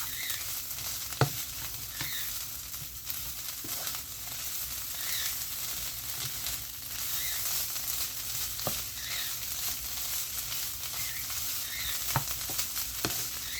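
Sausage frying and being stirred in a pan, a continuous loud sizzle with occasional scraping knocks from stirring, close up, no talking.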